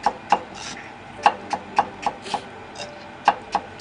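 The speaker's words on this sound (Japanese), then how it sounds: "きゅうりを薄切りです" Knife thinly slicing cucumber on a cutting board, a series of crisp, close, fairly regular taps and cuts, about a dozen in under four seconds, with no talking.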